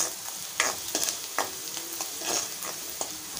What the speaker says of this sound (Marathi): असं फिरवत राहूया म्हणजे कांदा लवकर नरम होईल